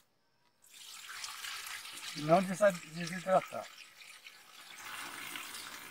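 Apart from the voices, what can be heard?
water being poured into a container holding cassava cuttings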